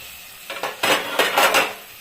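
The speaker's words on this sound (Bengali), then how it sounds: "এখন ঢাকাটা তুলবো আবার" A metal lid comes off a cooking pot with a few close clatters and scraping rattles, the clanks bunched in a short burst.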